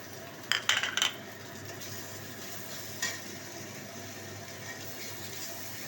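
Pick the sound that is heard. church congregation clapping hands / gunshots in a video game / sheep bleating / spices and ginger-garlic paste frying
spices and ginger-garlic paste frying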